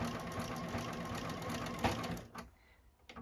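A Juki sewing machine runs steadily, top stitching around the edge of a wine glass apron, its fast even whirr stopping abruptly near the end before a few faint handling clicks.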